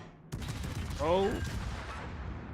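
Enemy destroyer gunfire in a naval video game, heard as a steady rumble of distant shots with a short tonal in-game alert in the middle and no clear talk over it.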